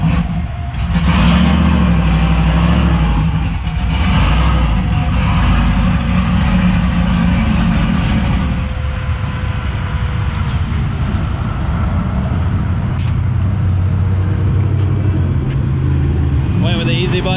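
Turbocharged 6th Gen Camaro with a swap, its engine and muffled exhaust running steady and fairly subdued, with a louder surge early on, while people talk nearby.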